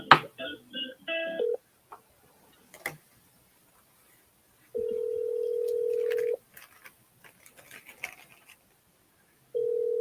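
On a phone call, a quick run of dialing tones is followed by a steady ringback tone that repeats after a pause. Faint clicks and line noise fill the gaps, and no one speaks.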